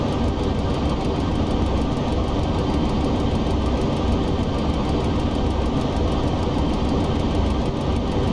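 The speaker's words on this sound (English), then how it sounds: "The engines have powered back a little bit now, so we should start bleeding that speed off." Airliner jet engines in the Flight Simulator X game, a loud, steady broadband roar held throughout at constant level as the thrust eases back.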